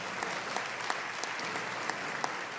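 A church congregation claps together after a call to applaud during a conversion testimony, a dense steady wash of hands with a few sharper claps standing out, sustained throughout at moderate level without voices.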